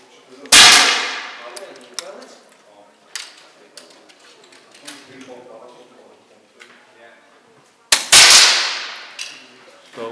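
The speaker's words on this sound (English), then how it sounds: "So I'll do a practice shot" A Daystate air rifle firing a practice shot with JSB pellets, heard as a sharp, loud crack followed by scattered clicks and handling noises, with a second strong report near the end.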